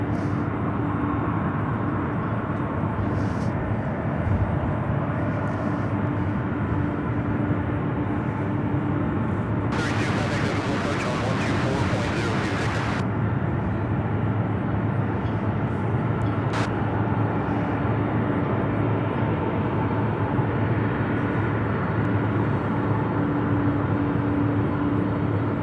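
An airplane at Louisville International Airport rumbles with a steady, broad engine roar throughout, a brief burst of hissing static in the middle, no voices.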